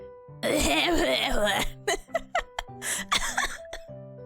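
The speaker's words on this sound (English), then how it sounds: "Cutely coughs and then hacks up a lung towards the middle." A person home sick coughs in a sustained wet, raspy fit, then breaks into a series of short choppy hacks and throat-clearing bursts, loud and close with a voiced, almost laughing quality.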